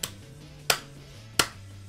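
Three sharp, separate claps from a player in VR Chat, spaced about 0.7 seconds apart, standing alone over a low steady background hum.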